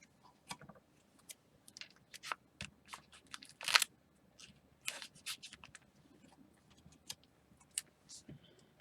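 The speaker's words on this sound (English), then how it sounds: "go ahead and tape it down so it doesn't shift." Fabric being taped down onto an embroidery hoop: quiet, scattered crinkles and clicks of handling, with one sharper rip of tape pulled from the roll near the middle.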